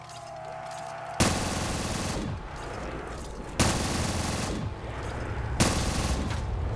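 RPG fire in a Call of Duty custom zombies map, three loud sudden blasts spaced a couple of seconds apart, each trailing into a dense rattle of continuous shooting.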